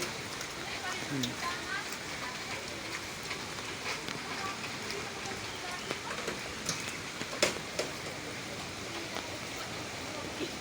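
Intermittent rain falls during a flood, a steady close wash of rain hiss with scattered drop patters, while people talk faintly in the background.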